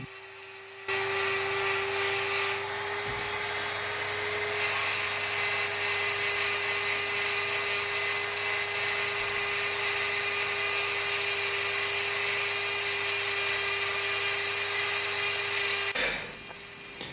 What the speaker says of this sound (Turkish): ben burada taşlama ucu açısından çok zorlayıcı olan beton bir blok kullanmak istedim